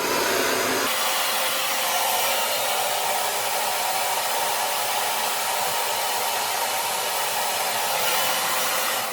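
A hair dryer blasts steadily on medium heat and high speed while drying a beard, a loud, close, unbroken roaring whoosh that starts abruptly after a brief moment and holds constant throughout.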